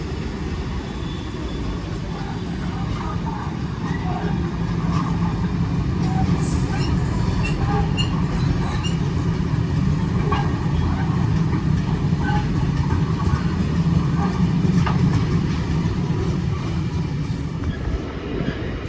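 A Class 66 diesel locomotive and its train run past on the West Coast Main Line diversion over the Walsall line, a loud continuous rumble and wheel clatter sustained for the whole stretch, fairly close, with no talking.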